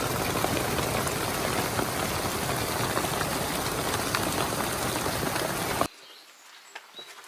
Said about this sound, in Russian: Позавчера был ужасный ливень с градом.